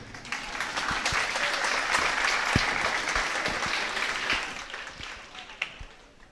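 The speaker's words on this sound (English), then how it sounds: "I thought you would clap to receive" An audience claps at a high school's annual prize-giving ceremony, a brisk crackle of many hands with a few sharp nearby claps standing out, building quickly, then thinning and fading over the last second or two.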